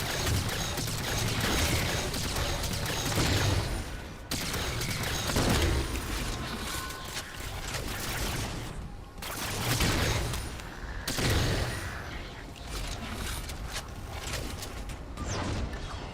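Continuous, layered gunfire and combat noise from the Halo shooter on Xbox, with dense bursts of light rifle shots running almost unbroken through the clip and brief dips near the fourth and ninth seconds.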